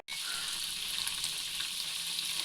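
Continuous crackling sizzle of fish frying in a hot pan, steady and close, with no voices.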